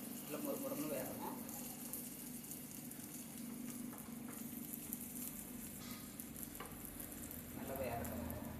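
Flattened rice (aval) snack frying in a pan, a quiet, steady sizzle and crackle of oil throughout with a few brief scraping stirs, close by and faint.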